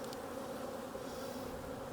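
Honeybees fill a hive with a steady, dense buzzing hum, continuous and even throughout at moderate loudness, with no voices.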